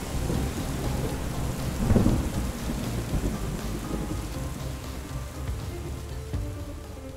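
Steady rain pours onto surfaces while low thunder rumbles, swelling loudest near the start, then settling into a continuous downpour.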